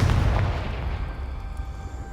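In Hogwarts Legacy, a Confringo blasting spell goes off with a loud, deep explosive boom that rumbles and fades over about two seconds.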